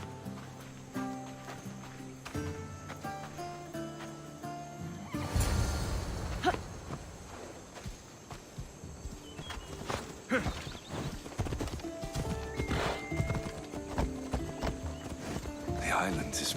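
Horse hooves clip-clop at a steady trot while riding in Assassin's Creed Odyssey, growing louder midway and continuing under voices talking and background game sound.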